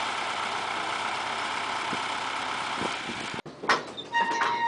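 A farm tractor engine idles steadily and fairly quietly after backing up a manure spreader at a dairy barn, then cuts off abruptly near the end, followed by a few clanks and knocks.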